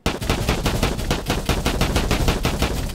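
Rapid, steady automatic gunfire from a gun in the VR game RFVR, a dense run of evenly spaced shots lasting about three seconds, loud and close with no talking.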